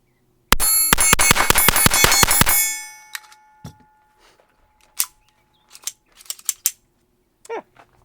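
A burst of rapid, sharp metallic shots from an S&W Performance Center PC22 Victory .22 pistol at an outdoor range, about a dozen close, loud cracks in quick succession for two seconds, followed by scattered faint clicks and handling noises.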